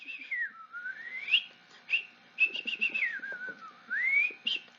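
A flute imitates birdsong with quick, high trills and sliding whistle-like phrases that rise and fall, sounding soft and light with small gaps between the runs, and no one talks over it.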